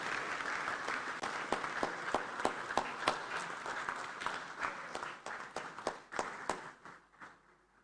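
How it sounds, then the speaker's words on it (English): Audience applause at an African inter-parliamentary conference, a full round of many people clapping with distinct sharp claps standing out, gradually thinning and dying away over eight seconds. "Please, a round of applause for her."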